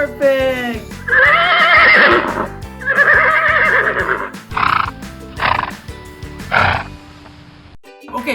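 A horse neighs and whinnies in a series of loud, close bursts with brief pauses between them, set against a child's animal-play game.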